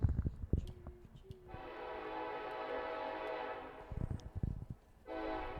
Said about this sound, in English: That's sweet, sweet train music. Power horns.